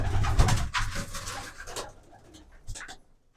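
Fancy pigeons coo in soft repeated rumbles close by, one bout after another, with a brief pause near the end before a final coo.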